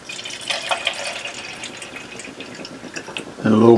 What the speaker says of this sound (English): Add us a little water